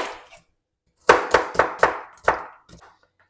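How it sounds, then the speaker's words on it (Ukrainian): A knife chops onion on a board in a home kitchen with five or six sharp, evenly spaced strokes, each a crisp thud with a short ringing tail, close and loud with no talking. "Зараз я цибульку поріжу"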